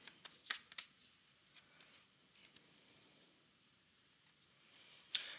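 Tarot cards being handled and shuffled up close, with soft papery flicks and taps clustered at the start, quiet rustling in the middle and one sharper snap near the end.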